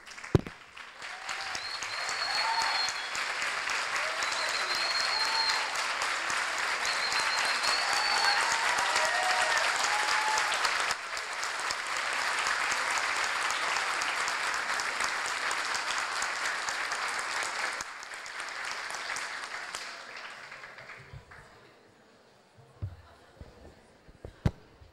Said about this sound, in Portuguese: a gente pudesse fazer uma salva de palmas para eles e para a professora Marlene.